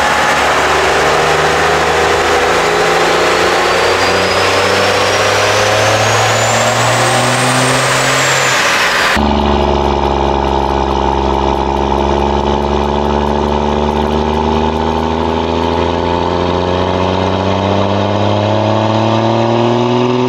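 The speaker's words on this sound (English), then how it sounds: "I'm gonna try to put a little bit of load on the dyno now and see if we can get that to spool" A turbocharged truck engine runs loud and steady under load on a dyno. The drone rises in pitch with a turbo whistle climbing over it, then cuts to a deeper, steadier roar with layered harmonics.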